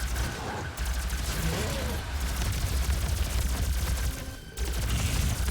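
Plasma rifle fire in Doom (2016), a dense, steady stream of rapid energy shots with muffled bursts and combat noise, loud and continuous with only brief dips.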